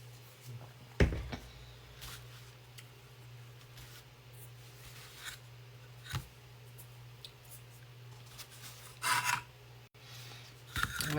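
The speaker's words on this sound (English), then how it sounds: "Let's do a little sanding." Sandpaper rasps against small wooden pumpkin pieces in short, scattered strokes with pauses between them, close and fairly quiet over a steady low hum.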